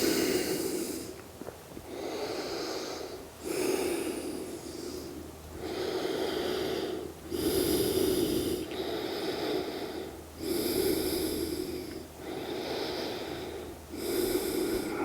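Slow deep breaths in a yoga crocodile pose, about seven long airy inhales and exhales alternating evenly, close and clear with no talking.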